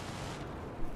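Sustained rattle of gunfire in Battlefield 3 during a co-op rooftop firefight, a dense continuous wash of shots at moderate level with a slightly louder burst near the end.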